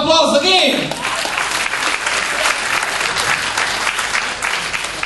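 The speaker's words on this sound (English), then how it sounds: "big round of applause again!" A large event crowd applauds in a dense, steady roar of clapping for several seconds, with a voice briefly heard at the very start before the applause takes over.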